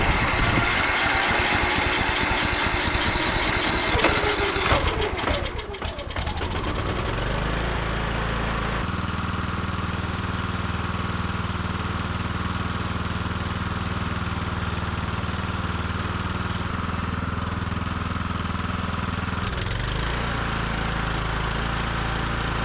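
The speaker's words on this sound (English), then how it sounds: "I don't want to let it run too long because the cowling's not on it" A carbureted engine without its cowling, fitted with a fresh air filter after being hydro-locked and saturated with fuel, starts with rough loud sputtering, then settles into a steady, close idle drone that holds for nearly twenty seconds with a slight shift near the end.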